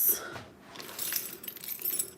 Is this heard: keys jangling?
yes